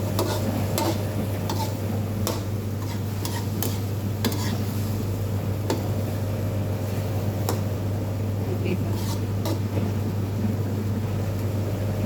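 String beans (sitaw) for adobo simmering in a pan, a steady low bubbling and faint sizzle over a constant hum, with occasional light clinks of a utensil, close and continuous.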